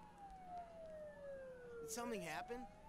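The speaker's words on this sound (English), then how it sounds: "Don't those sirens sound really close?" Wailing emergency sirens from the Persona 4 Golden video game, a long descending tone sweeping beneath game ambience, followed by a cluster of rising and falling siren wails near the end, moderately loud.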